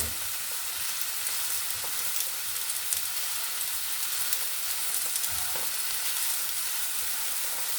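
An egg frying in a pan at a campsite, a steady close sizzle and crackle of hot fat running throughout with no talk.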